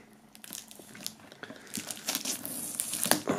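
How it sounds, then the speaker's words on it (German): Plastic shrink-wrap film peeled off a square compact CD box set, quiet close crinkling and tearing that grows busier and louder toward the end, with no talk. "Als allererstes werden wir wie immer die Folie entfernen."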